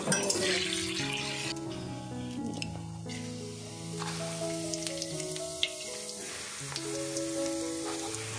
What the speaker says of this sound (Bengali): ভালো করে তেলটা মাখিয়ে দাও আলুর চারপাশে, তবে তো ভাজা হবে।